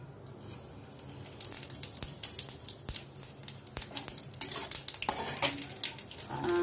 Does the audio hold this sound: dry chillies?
yes